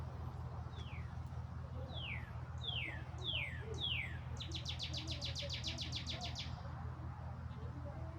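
A red cardinal sings nearby outdoors, a series of clear downslurred whistles followed by a quick rapid chip trill over a low steady background rumble.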